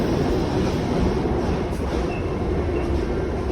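A subway train rumbles past, one of two trains moving at once, with a steady, loud, continuous roar of wheels and rail noise that holds throughout and no talking.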